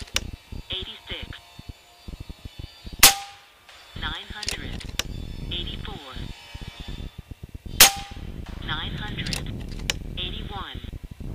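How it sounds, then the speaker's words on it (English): A .22 Airmaks Arms Krait X air rifle firing Zan slugs outdoors, two sharp loud shots a few seconds apart, each followed by metallic clinks and handling noise, with someone talking in between. "So that first shot was a little low."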